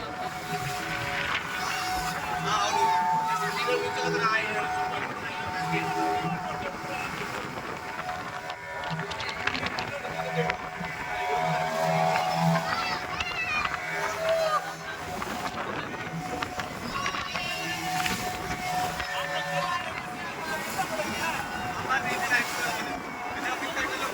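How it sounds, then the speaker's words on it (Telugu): A boat rides through sea waves where the sea meets a river near Puducherry, giving a steady rumble of water and wind rushing past with faint voices underneath. "సముద్రపు అలలు మన బోటుకు ఎదురెత్తున్నాయి"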